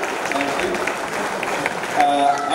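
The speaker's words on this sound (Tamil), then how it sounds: "உங்களோட நடனத்தை பாராட்டி கைத்தட்டல் கொடுக்கலாம்." Audience clapping in a hall after a dance performance at a Tamil community music festival in London, a steady, dense patter of many hands with a tonal hum entering near the end.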